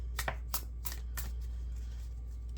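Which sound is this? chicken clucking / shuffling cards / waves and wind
shuffling cards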